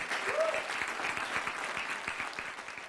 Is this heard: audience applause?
yes